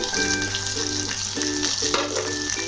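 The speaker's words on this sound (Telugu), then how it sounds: "బాగా ఫ్రై అయ్యే వరకు గోల్డ్ కలర్ వరకు ఫ్రై చేసుకొని" Garlic slivers frying in oil until golden for Andhra-style bottle gourd dappalam, a steady close sizzle with repeated soft stirring scrapes running through it.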